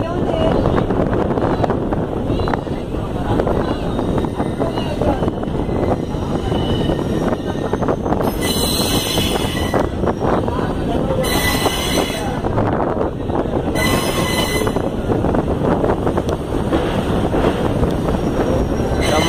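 An Indian Railways train crosses the Pamban Bridge over the sea, a loud, steady rumble of wheels and carriages with bursts of high wheel squeal and wind noise on the microphone.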